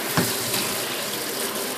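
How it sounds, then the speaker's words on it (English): Water running from a tap onto aluminum to rinse off Easy Off oven cleaner, a steady close splashing hiss that holds evenly throughout with no speech. "I'm gonna go ahead and put some water on it and see what it looks like"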